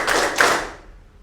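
Classroom of students clapping together in a rhythmic clap game, two quick unison claps close up, the second sharper, then a brief fading ring.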